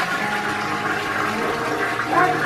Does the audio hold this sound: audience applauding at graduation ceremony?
no